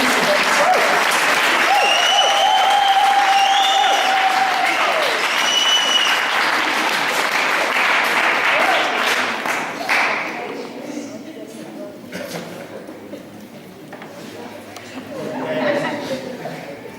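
Audience applause and cheering for a speaker coming on stage at a political gathering, loud at first with whistles and tonal calls over the clapping, then fading into quieter crowd noise and chatter before a brief swell.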